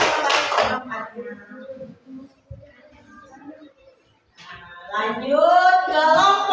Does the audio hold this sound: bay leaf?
no